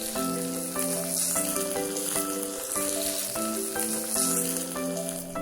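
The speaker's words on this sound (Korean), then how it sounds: "털두부는 털이 주는 불편한 식감을 없애기 위해 생으로 먹지 않고 기름에 튀기듯이 부쳐내는데요." Fermented hairy tofu (mao doufu), its mold-covered blocks pan-fried in oil until crisp, gives a steady, close sizzle and crackle that runs unbroken throughout, with music playing over it.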